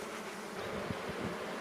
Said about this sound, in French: Donc les abeilles ventilent à cause de la fumée.